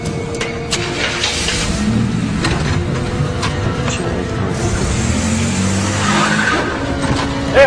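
A car pulls away with its tires skidding and squealing, a loud sustained engine roar with screeching rubber that swells toward the end.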